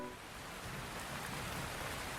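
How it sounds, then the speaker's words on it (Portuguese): Rain falls in a steady, dense hiss of fine drops across a surface, continuous and even with no voices or distinct events. "A chuva cai fina, o vento percorre frestas antigas"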